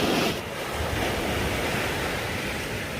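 Waves break on the beach at Kelleys Island in a continuous, close surf wash with wind buffeting the microphone, a steady roar with a slight swell at the start.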